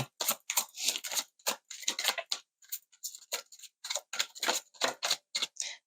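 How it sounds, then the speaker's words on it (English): Cards being shuffled up close, a rapid series of crisp flicking and riffling bursts separated by short pauses. "the shuffling comes out a lot louder than I anticipate"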